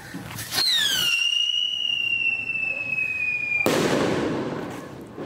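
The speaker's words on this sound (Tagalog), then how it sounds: "Whistle racket, testing." A whistle rocket firecracker launches with a rising, sustained shrill whistle lasting a few seconds, then bursts into a loud, broad crackling bang; a faint voice is heard early on.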